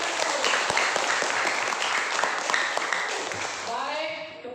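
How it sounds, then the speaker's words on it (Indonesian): Classroom applause from students, a dense patter of clapping that fills most of the clip and fades near the end as a voice begins to speak. "Iya, terima kasih, tepuk tangan."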